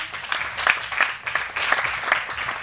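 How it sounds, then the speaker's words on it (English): An audience at a poetry slam festival claps and cheers in a dense, continuous round of applause that swells and dips slightly, heard up close and without speech. "give him a round of applause"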